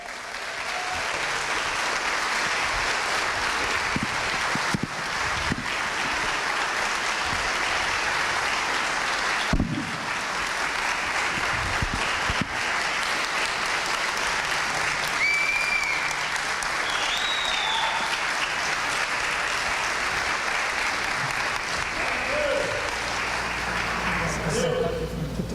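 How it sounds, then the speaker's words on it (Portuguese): A church congregation applauds during a Portuguese-language evangelical service, with sustained dense clapping that fills the room for the whole stretch, a few cheers and raised voices breaking through. "com muita alegria da igreja, com a salva de palmas"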